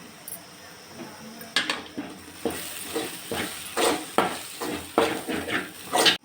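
Spices for egg curry stirred through in a pan, a spoon scraping and clinking against the metal in a steady run of strokes, close and fairly loud with a soft sizzle beneath.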